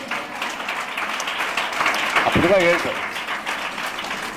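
A church congregation claps during a Tamil sermon, steady broadband clapping running throughout while a preacher speaks loudly over it.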